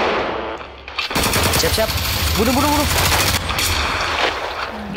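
Rapid automatic gunfire in the Roblox shooter Hellmet, a loud dense burst of shots lasting a couple of seconds, with someone speaking briefly around it.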